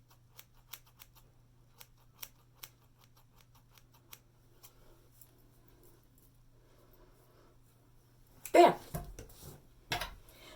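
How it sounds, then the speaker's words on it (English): Scissors snip hair in a series of quick, sharp clicks over a low steady hum, followed by a louder burst of rustling near the end. "now I'm going to take the tips of the scissors"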